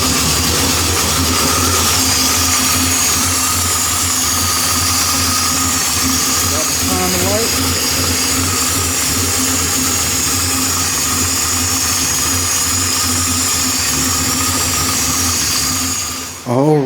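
A 406 small-block Chevy V8 in a 1973 Impala runs after repairs and a distributor timing adjustment, holding a steady rough idle nearby with a brief change near the end and a voice talking over it.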